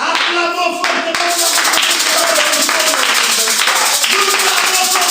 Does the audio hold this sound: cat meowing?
no